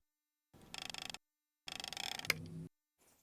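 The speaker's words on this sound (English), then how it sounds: "turn it counterclockwise until you hear the click of it stopping" Two bursts of rapid mechanical clicking from a Rain Bird 5000 rotor sprinkler, the second ending in a sharp single click at its stop and a short low rattle, then quiet.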